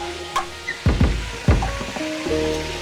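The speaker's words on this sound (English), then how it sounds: "whisk that up right there" A thick macaroni and cheese mixture is whisked in a few quick bursts, producing wet, sloshing strokes with brief pauses, close up and fairly loud.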